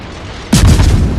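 A single heavy naval gun shot from a warship in World of Warships, a sudden loud boom followed by a rumbling roll-off that trails away over about a second, alone with no talk.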